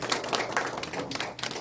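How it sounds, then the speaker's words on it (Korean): Clapping from a forum audience at a policy debate on the Hwadojin festival, a short burst of scattered hand claps, moderately close and uneven in rhythm, with no talking over it. "큰 박수 부탁드리겠습니다"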